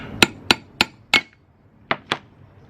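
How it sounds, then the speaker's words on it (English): A hammer tapping a bolt head on a Honda CR-V rear differential, six sharp metallic knocks, four evenly spaced, then a pause and two more, close and clear. "I'm gonna tap this head right here ever so slightly because you don't want to like mess up those threads."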